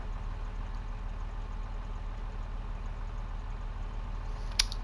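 A low, steady tractor engine idle from the video game Farming Simulator 22 rumbles continuously with a faint mechanical chug, and a brief sharp click near the end.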